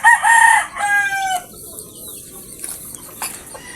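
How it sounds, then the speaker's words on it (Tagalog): Tethered pet roosters in a backyard give a loud, close crow at the start, followed by softer clucking and scattered farmyard noises. "marami tayo makikita mga nakataling alagang manok natin"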